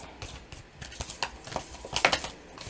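A deck of tarot cards is shuffled by hand, a quiet run of soft riffling and tapping bursts close up, with no talk.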